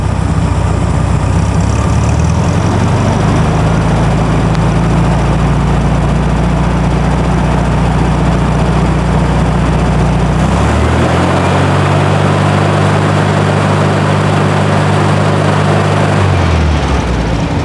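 A 1964 VW Beetle 1600cc engine holds a steady light-throttle rev near 1400 rpm, a continuous low drone that shifts pitch slightly partway through before settling again, close and loud with no talk over it.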